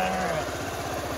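Sheep bleating near a waterfall area in Srikakulam, a few wavering bleats close by over a low idling motorcycle engine.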